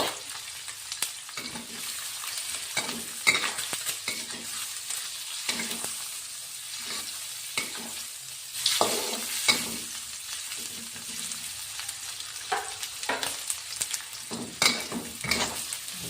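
Chilies, garlic and shallots stir-fried in a pan for sambal kering terasi, with a steady close sizzle and repeated scraping and clattering strokes of a spatula over about sixteen seconds.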